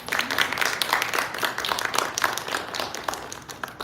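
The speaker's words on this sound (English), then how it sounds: "a round of applause for our panelists" Audience applause for panelists at a technology panel event, a steady patter of many hands clapping at moderate volume for a few seconds with no talk over it.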